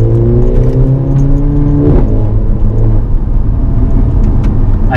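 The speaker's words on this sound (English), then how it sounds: "pick up the pops and crackles of the exhaust" Mercedes CLA 45 AMG engine and exhaust heard close up and loud, a rising rev that drops sharply midway, then a rough rumbling idle with faint crackles.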